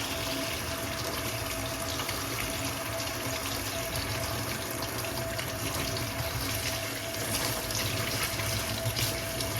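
Tap water pours in a steady, loud, close gush into the filter of a Dyson V15 Detect cordless vacuum, running without pause and with no talking.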